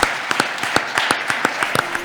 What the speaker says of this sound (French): Applaudissements pour Maître Lombardi